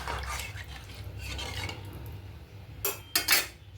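A metal lid clatters onto a cooking pot of fish curry in a home kitchen, a couple of sharp clanks near the end after soft stirring and utensil scraping, close and fairly loud, with no talking.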